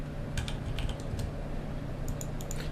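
Computer keyboard keys pressed while drafting in AutoCAD: a few quiet, crisp clicks in two short clusters, with no voice.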